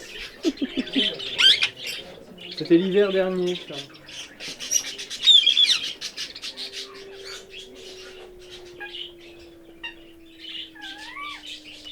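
Birds squawk and chirp noisily over several seconds, harsh calls mixed with shrill whistles close by, while a person talks briefly over them.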